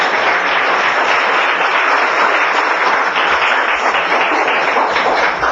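A church congregation applauds in worship, a dense and steady wash of many hands clapping at once, loud and close, continuing without pause from start to finish.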